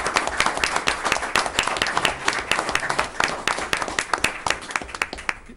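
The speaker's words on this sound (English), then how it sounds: "they deserve a big round of applause" Applause in a Hingham Board of Selectmen meeting room: a small group clapping with distinct, closely spaced individual claps that thin out toward the end, no talk over it.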